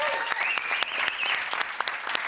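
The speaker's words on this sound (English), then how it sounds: "One more round of applause for Demo" Audience applause for a guest at the close of a talk show: dense, steady clapping from a crowd, continuous throughout with a few sharper individual claps standing out.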